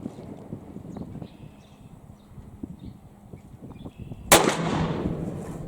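A shotgun loaded with turkey ammunition fires once at a 30-yard target outdoors: a single sharp, loud blast with a rolling tail, after several seconds of quiet wind and faint rustling.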